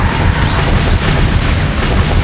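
Spell explosions in the Hogwarts Legacy video game, a loud continuous barrage of booms and blasts that crowd together with no pauses.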